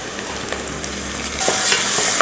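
Onions and green chillies sauté in a pan for rava kitchadi, a steady close sizzle with occasional scraping stirs that grows louder and brighter partway through, no voices.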